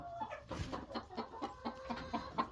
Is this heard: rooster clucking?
yes